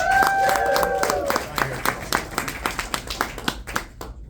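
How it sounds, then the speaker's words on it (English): Scattered hand claps ring out from a small group, starting busy with a brief tone underneath, then thinning to sparse individual claps near the end. "Let me just hear a round of applause."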